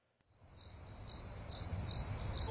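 Crickets chirp steadily in a quiet setting, a close, continuous high trill that pulses in regular bursts with no voices present.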